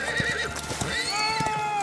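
A horse whinnies loudly and repeatedly over a steady clatter of hooves in a film scene where a drunk man falls from a horse, with no talk over it.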